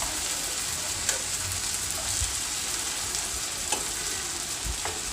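Prawns frying in hot oil for a Bengali chingri malaikari, a steady close sizzle with occasional soft pops and crackles, no voices.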